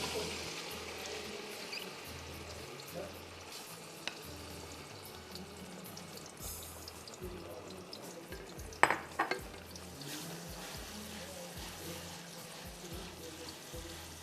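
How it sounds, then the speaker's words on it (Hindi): Blended onions frying in a pot for mutton paye, giving a steady soft sizzle with occasional stirring scrapes and a brief louder clatter near the middle, quiet and continuous throughout. "तीन से 4 मिनट आपको इसको भूनना है।"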